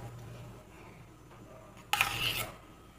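A metal spoon scrapes and clinks against a glass while adding malai cream into homemade lassi, one short bright burst of clatter after a quiet stretch of faint kitchen background.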